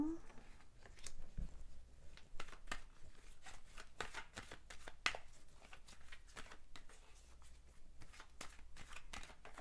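Tarot cards are shuffled and drawn, a quiet string of crisp riffling flicks and soft slaps, close by and faint, with a voice speaking briefly.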